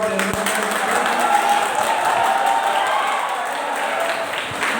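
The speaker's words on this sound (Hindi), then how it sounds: "ताली बजाकर स्वागत कीजिए" Audience at an award ceremony applauding to welcome the function coordinator, a steady wash of crowd clapping that runs throughout with voices mixed in.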